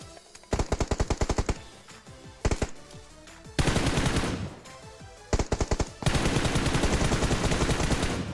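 Video game gunfire during a multiplayer shooter match, rapid automatic bursts of shots in several volleys, close and loud, with a longer sustained stream of fire near the end.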